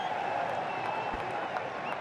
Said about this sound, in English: school kids have come in to watch and cheer